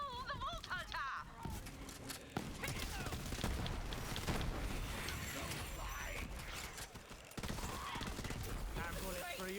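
Rapid gunfire bursts in the shooter game Borderlands 3, crackling and clattering against busy battle effects and shouting voices throughout, fairly quiet overall.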